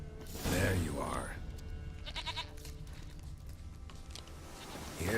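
A goat in The Witcher 3: Wild Hunt gives a loud, wavering bleat at close range, then quieter game sounds and faint clinks follow, with another bleat starting at the very end.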